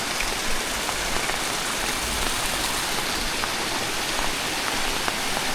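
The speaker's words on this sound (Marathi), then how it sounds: "घरात पाऊस पडला म्हणजे" Steady evening monsoon rain falls in the Konkan countryside, a dense, even hiss of drops pattering on surfaces, moderately loud and unbroken with no voices.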